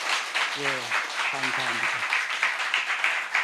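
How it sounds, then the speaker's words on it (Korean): Congregation applause at a Korean church gathering honoring the elders, a steady broadband patter of clapping lasting throughout, with a voice speaking briefly over it. "기도하시는데 은혜 박수로 한번 격려하겠습니다."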